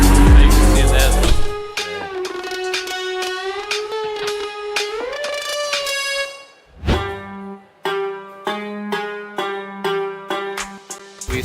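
An old 1992 racing car engine runs loud and close, with several rising and falling revs and gear changes, a brief dip near the middle and repeated short throttle blips toward the end.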